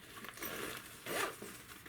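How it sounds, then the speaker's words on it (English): Zipper on a handmade mini backpack project bag being pulled, two quick close rasping zips, the second one louder, with no talking. "Oops, wrong zipper."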